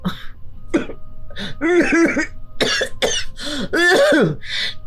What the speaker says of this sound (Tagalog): Tingnan mo nga sa bibig ka na humihinga tapos inuubo ka pa.